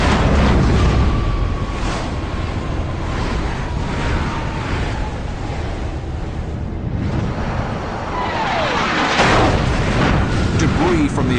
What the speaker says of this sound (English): Debris from the explosion takes down the MiG's wingman.